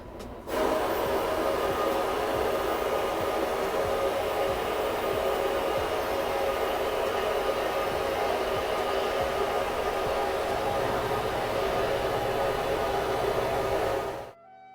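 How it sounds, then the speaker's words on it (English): Steady, loud hissing blast of a vapor blasting cabinet working a Yamaha YZ426F motorcycle cylinder head, a continuous broadband spray rushing for about fourteen seconds before cutting off, with no talking. "Otherwise I'm probably gonna have to dry blast it, dry it all off, and then dry blast it, and then vapor blast it."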